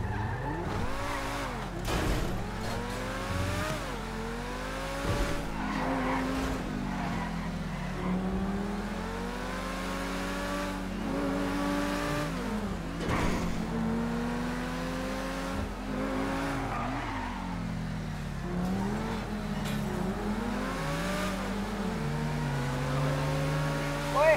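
A car in GTA 5 role-play drives hard, with engine revving up and down and repeated tire squeals and skids over about 24 seconds, while players talk intermittently over it.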